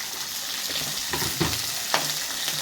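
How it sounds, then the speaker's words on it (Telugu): Onion and curry leaves fry in a pan, sizzling and crackling steadily. A few louder stirring scrapes stand out above the hiss, and no one speaks. "కొంచెం ఫ్రై అయినాక కరివేపాకు వేసేయాలి."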